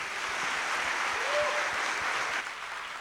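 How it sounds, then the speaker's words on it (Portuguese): A church congregation applauding during a Sunday worship service, steady dense clapping from many hands that holds for about three seconds, with a brief whistle-like tone partway through and a slight drop in level near the end. "Queridos, você pode aplaudir o Senhor Jesus?"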